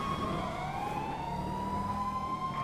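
A police car siren in GTA 5 wails steadily throughout, a rising and falling tone over a continuous engine and traffic rumble, fairly distant and without speech.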